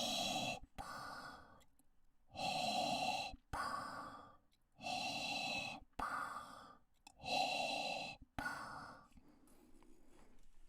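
A human voice imitates Darth Vader's mechanical breathing, with slow, rhythmic rasping inhale and exhale cycles repeated about five times, loud and close, with short silent gaps between them.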